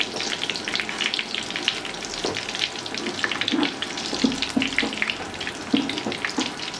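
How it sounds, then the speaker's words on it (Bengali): Onion rings deep-frying in oil over medium heat until golden, giving a steady, dense crackling sizzle with scattered pops and light clinks of the pieces being turned, fairly close and without talk. "মিডিয়াম জালে এটাকে গোল্ডেন করে ভেজে নেব।"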